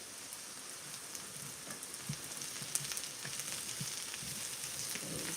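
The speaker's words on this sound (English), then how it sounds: "I'm going to drop our mushrooms in over here" Mushrooms sauté in oil and butter in a pan, giving a soft, continuous sizzle and crackle with faint stirring, quiet and close.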